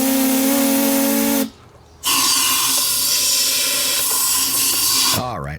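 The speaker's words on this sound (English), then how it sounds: "I'll also do this so it blows all the gas out through the carburetor" Compressed air blasts loudly through a Briggs and Stratton lawnmower carburetor to push fuel out, a harsh close hiss that briefly stops, then resumes with a continuous whistling tone.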